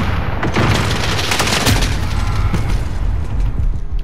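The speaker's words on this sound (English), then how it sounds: "Stupid rocket launcher." Loud, close blasts and gunfire in Call of Duty: Modern Warfare, a rocket launcher explosion rumbling amid a dense run of shots and booms throughout.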